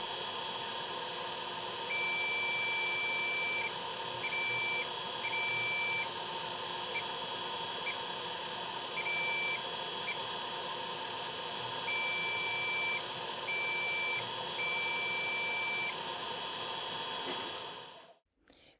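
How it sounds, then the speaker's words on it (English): Multimeter in continuity mode beeping while probing charging-circuit pads on a Chinese tablet, a series of short and longer steady tones of irregular length over a constant background hum, close up, no talking. "With the help of the multimeter in continuity mode,"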